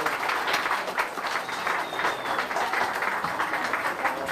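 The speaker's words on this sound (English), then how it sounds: "Let's give another round of applause for our Congressman Lou Barletta." An audience at an addiction awareness rally keeps up steady, moderately loud applause with uneven clapping throughout, and a faint tone briefly rises over it partway through.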